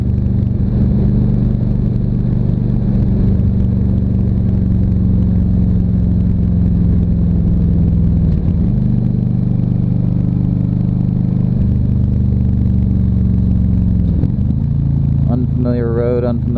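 Motorcycle engine droning steadily while riding on an open road with a passenger aboard, loud and continuous with slight pitch dips as the rider shifts, plus wind rush and a brief clatter at the end.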